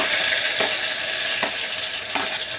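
Finely chopped onions fry in hot oil with a loud, constant sizzle, broken by three evenly spaced scrapes of a stirring spoon against the pan.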